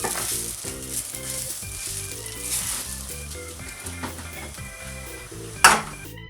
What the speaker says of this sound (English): So after frying your egg,